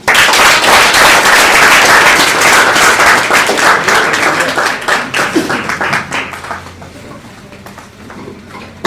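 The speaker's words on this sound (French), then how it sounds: "Alors, applaudissez pour lui." At a public speaking club session in Bamako, an audience breaks into loud, dense applause that gradually thins out and fades to scattered claps toward the end.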